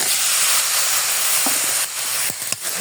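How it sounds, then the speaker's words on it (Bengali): Beef pours into a pan of hot, well-fried spice masala and sets off a loud, continuous hissing sizzle close by. A few utensil clicks and scrapes follow near the end. "এখন আমি গোশতটা ঢেলে দেবো।"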